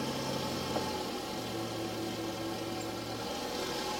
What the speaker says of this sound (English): the engine started dying down and stumbling because I'm introducing extra fuel inside the engine